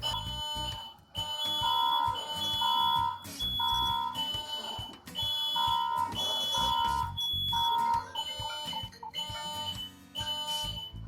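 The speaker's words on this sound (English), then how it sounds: "It's a smoke alarm." A Ring Alarm smoke alarm sounds in repeated shrill bursts of rapid beeps separated by short pauses, loud and continuous for the whole stretch.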